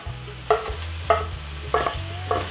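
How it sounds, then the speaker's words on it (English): Vegetables sautéing in a pan for a veggie couscous, a low steady sizzle broken by four regular scraping stirs of a utensil, close and with no one speaking. "Let those saute away."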